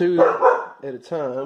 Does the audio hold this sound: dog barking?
yes